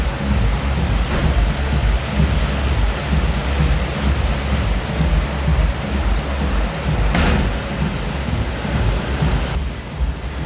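Heavy rain pouring down at Green Garden Park in Rajabari, Keraniganj, Dhaka, a dense continuous roar of falling water close by with low rumbling underneath, steady for the whole stretch without speech.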